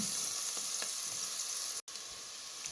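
Garlic and spices sizzle and fry steadily in hot ghee, a dense close crackle that cuts out for a moment near the end and then resumes.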